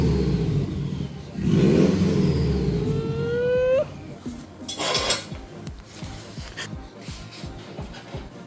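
A Subaru WRX engine revs after a clutch overhaul, with a rising rev sweep that climbs and cuts off, then lower idle rumbling with metallic clinks and shuffling nearby.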